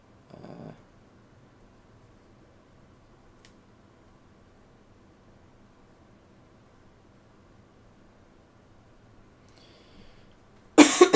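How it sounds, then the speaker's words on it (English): A person coughs once at the start, then after a long near-silent pause a second harsh, louder cough bursts out right at the end, close to the microphone. "Sorry about the coughing,"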